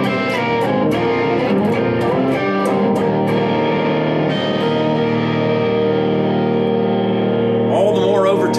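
Electric guitar played through a TC Electronic Sub N Up octave pedal with distortion rings out as loud, sustained, thickly layered chords with octave doubling, fading into a wavering, feedback-like swell near the end.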